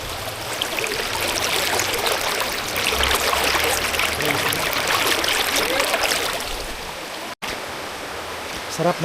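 A rocky stream runs nearby with a continuous, bright rush and gurgle of flowing water, steady for several seconds before a short break and a softer trickle.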